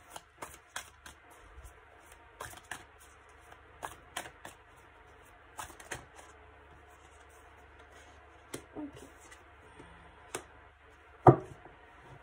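Tarot cards shuffled by hand for a reading, a series of crisp riffling and slapping bursts at irregular intervals, close and fairly quiet, with one sharper knock near the end.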